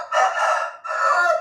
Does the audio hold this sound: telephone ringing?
no